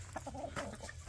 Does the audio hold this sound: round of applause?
no